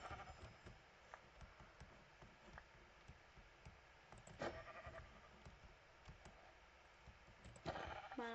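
Sheep bleat in a Minecraft survival game, a few short blocky calls rising over a steady low game ambience, with sharper bleats near the middle and again toward the end.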